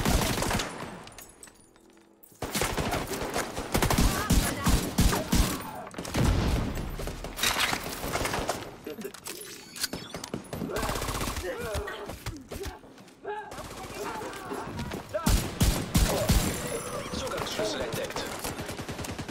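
Gunfire in the video game The Division 2 on PC, with dense bursts of automatic rifle fire and single shots coming in repeated volleys across the clip, plus footsteps and game effects, under someone talking in German.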